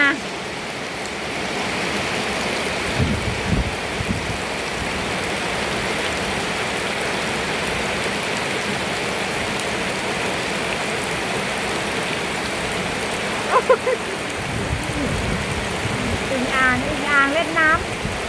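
Steady, heavy rain that brings out frogs hisses continuously, with a few brief chirping calls and faint voices breaking through near the end.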